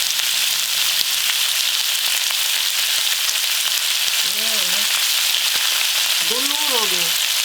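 Chicken drumsticks frying in a pan over lowered heat, a steady, dense, close sizzle that holds throughout, with a voice briefly speaking over it twice.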